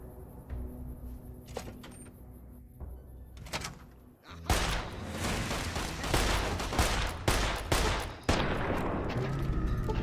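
Pistol gunfire in the game Fallout: New Vegas: a few sharp, isolated cracks over quiet ambience, then after about four seconds a fast, loud run of rapid shots that continues to the end.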